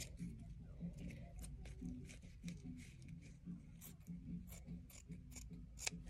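Scissors snip through a flower stem while a boutonniere is prepared, giving repeated crisp cuts at irregular intervals, close and fairly quiet, with low talking underneath.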